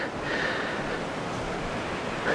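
Sea waves roll in on a coastal trail in Pingtung, a soft broadband wash of surf mixed with wind noise, steady and moderately distant.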